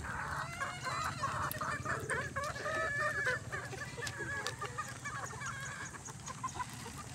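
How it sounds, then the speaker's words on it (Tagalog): Several gamefowl chickens on a breeding farm cluck and call over one another in a steady, busy chorus, fairly close, with a low rumble of background noise underneath. "Ang sarap pagmasdan ng ating mga manok pag"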